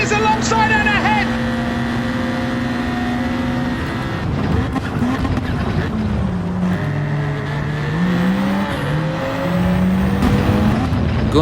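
Race car engines roar in the Gran Turismo video game as Vettel and Hamilton drag race neck and neck into turn 1. The sustained, loud engine tones rise and fall in pitch as the cars accelerate and shift, with a commentator talking over them.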